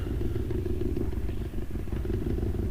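A motorcycle engine drones steadily and loudly while riding out toward Petty Harbour, a continuous close rumble with slight rattles and no pauses.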